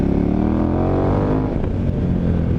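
A dual sport motorcycle on Mitas E07+ tires powers out of corners, the engine droning loud and close in a sustained rising rev with harmonics, steady and without speech.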